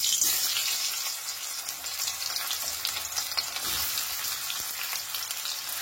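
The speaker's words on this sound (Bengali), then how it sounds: "গ্যাসের ফ্লেমটাকে মিডিয়ামে রেখে পেঁয়াজগুলো খুব সুন্দর করে ভেজে নেব।" Thinly sliced onions fry in hot mustard oil over a medium gas flame, giving a loud, steady crackling sizzle with scattered pops and some stirring, with no voices.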